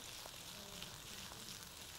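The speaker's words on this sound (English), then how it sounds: "So we're going to be stir frying, right? All of this." Fish with garlic stir-frying in a pan gives a steady, close hiss of sizzling oil that runs unbroken throughout at low volume.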